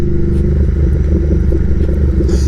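A Royal Enfield Interceptor motorcycle fitted with an S&S Qualifier 2-1 exhaust pipe rumbles loud and close, a steady deep throbbing engine note at a sustained throttle with no voices.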